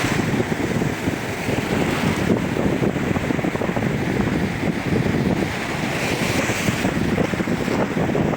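Sea waves break and wash continuously nearby on a windy, stormy Italian coast, a broad churning roar mixed with wind buffeting the microphone.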